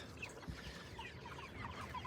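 Several chickens cluck softly and intermittently during feeding and watering, with short scattered calls over low background noise and farm activity.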